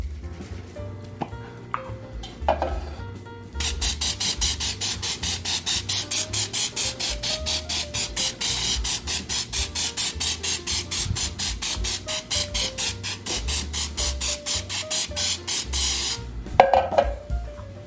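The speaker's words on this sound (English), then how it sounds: "I'm going to spray it. I have my Food Lion baking spray." A close, steady hiss of baking spray coating a bundt pan in rapid pulsing bursts runs for about thirteen seconds, with faint clinks of handling before and after.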